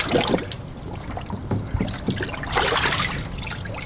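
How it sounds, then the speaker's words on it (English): Water swished and sloshed around submerged filters being cleaned in a unit, a close, continuous trickling and splashing with irregular surges. "Swishing the water around in those things"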